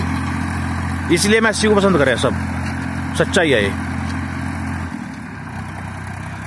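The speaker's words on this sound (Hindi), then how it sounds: "ट्रैक्टर चल रहा बिल्कुल लोड फ्री," A Massey Ferguson 1035 tractor pulling a 14-disc harrow through soil runs with a steady low engine drone, close and continuous, while someone talks over it and the engine note drops off near the end.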